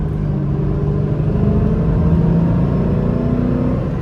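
A Ford Mustang S197 (5th generation) engine after a downshift while driving, a steady loud low rumble and drone from inside the car with no voices.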